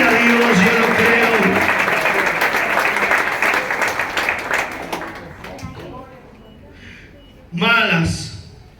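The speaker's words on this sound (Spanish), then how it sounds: "Si usted lo quiere, un fuerte aplauso y diga:" A congregation applauds during an evangelist's sermon, dense clapping that is loud at first and gradually thins out, followed by a brief burst of voices near the end.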